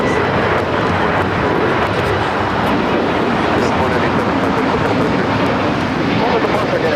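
A jet airliner roars as it takes off from runway 25 right at Los Angeles International Airport, a steady, dense, loud engine rumble heard from a distance with no break across the whole stretch.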